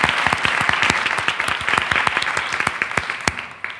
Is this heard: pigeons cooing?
no